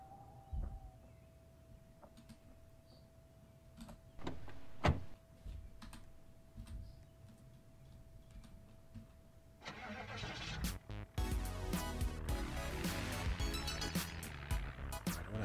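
Car door and engine starting in the Project Zomboid game, a few sharp knocks over a steady hum, then a loud, dense rumble of the engine catching and running for the last third.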